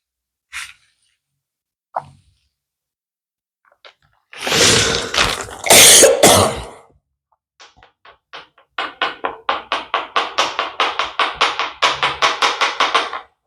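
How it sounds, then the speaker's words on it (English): A person coughs in a dusty house, a couple of loud harsh bursts standing alone, followed by a long run of rapid rhythmic tapping or shaking sounds. "Oh, this cough. I don't know if it's the dust or what."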